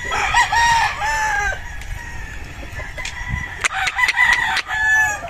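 A Larry Romero Sweater gamefowl rooster at a game farm crows loudly twice with drawn-out calls, with clucking and other birds around it between the crows.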